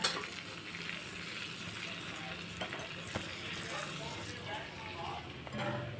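Cumin, a dried red chili, bay leaf, a cinnamon piece and red chili powder sizzle in hot oil for tempering, the burner just switched off; a steady close frying crackle runs throughout without pause.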